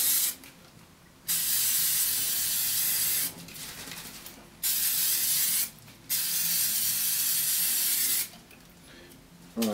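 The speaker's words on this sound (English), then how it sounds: "I'm just using spray wax" Wax release spray hisses from an aerosol can onto moulds for casting a prop, four separate bursts of a second or two each with short pauses between, close and loud.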